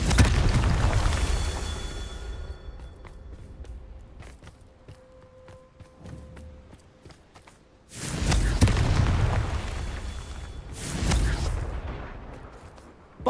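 Spell-blast explosions in a Hogwarts wizarding video game: loud, booming bursts with deep rumble. Between them are quieter stretches with scattered sharp clicks, then two more heavy blasts close together near the end.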